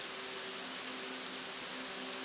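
Steady rain falling in an even hiss, soft and continuous, with a faint low tonal hum running beneath it and no talking.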